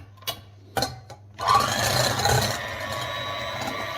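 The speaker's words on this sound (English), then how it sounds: "So now you just have to watch me whisk my eggs for about 5 minutes." After a few sharp knocks, an electric whisk starts up and runs with a steady whirring buzz while whisking eggs in a home kitchen, continuing evenly to the end.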